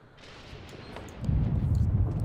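A thunderstorm in The Sims 4: a low rumble of thunder swells and builds into a heavy, sustained roll that grows louder toward the end, with no voices.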